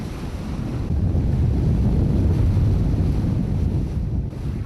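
Strong ocean waves surge and crash at sea with heavy wind buffeting the microphone, a loud continuous roar that swells and eases slightly, with no voices.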